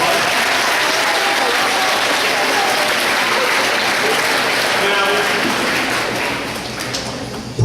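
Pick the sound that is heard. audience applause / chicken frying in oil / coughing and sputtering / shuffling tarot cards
audience applause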